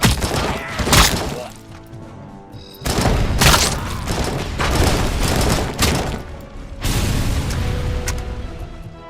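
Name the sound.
AK rifle gunfire in Robocop: Rogue City video game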